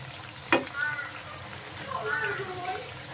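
Oil sizzles softly and steadily as semolina pitha fritters fry, with a sharp clink near the start and faint voices in the background.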